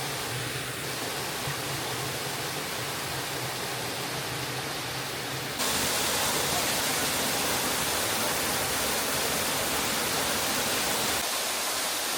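Fairy Glen waterfall in the Scottish Highlands, a continuous broadband roar of rushing water that grows louder and closer partway through, steady and unbroken with no voices.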